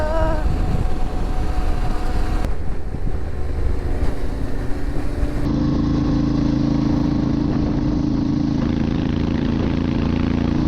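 Motorcycle riding along a road in Iran, a steady loud engine drone with wind rush throughout, the engine note shifting to a stronger, lower hum partway through.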